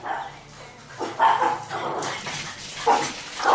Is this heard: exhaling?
no